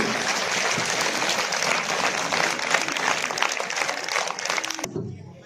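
An audience at a Baltistan Culture Day school event applauds to welcome Class 10 student Alia Mir to the stage: dense, steady clapping close by that fills the space, then cuts off abruptly near the end.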